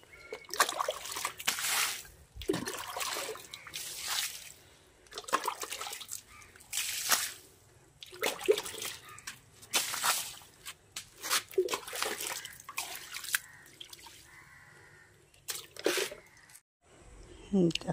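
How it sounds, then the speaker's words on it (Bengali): Water is splashed out in bursts onto dusty ground in front of a house, each sloshing splatter separated by short pauses, fairly close, with someone talking quietly between the splashes. "একটুখানি সামনেটায় জল দিয়ে নিই।"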